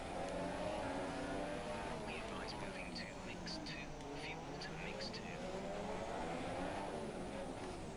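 Ferrari Formula 1 car engine from F1 2017 at Monaco, a steady high-pitched racing engine drone running behind a nearby car's engine noise, continuous throughout with someone talking over it.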